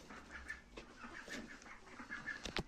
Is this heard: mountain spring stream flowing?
no